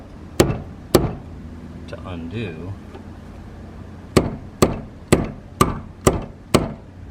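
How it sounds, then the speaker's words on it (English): A hammer strikes a flat screwdriver to loosen the fuel pump locking ring on a 2006 Pontiac Vibe: two sharp metallic hits, a brief spoken phrase, then six evenly spaced blows in quick succession, close and loud. "in my case a flat screwdriver and a hammer"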